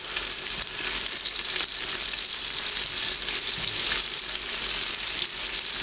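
Onions frying in oil with two bay leaves for an Indian red curry masala paste, a steady close sizzle with faint stirring scrapes and no talk.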